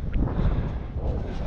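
Wind blowing outdoors, a steady low rumbling buffet against the microphone with faint rustling, continuous and fairly loud throughout the short stretch.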